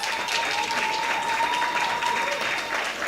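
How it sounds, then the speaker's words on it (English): An audience at a university humanities and education student awards ceremony gives steady, dense applause for the students. It sounds full and sustained throughout, with a faint tonal hum in the room. "Please join me in applauding the"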